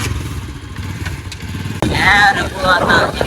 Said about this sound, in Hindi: निकालो बाइक का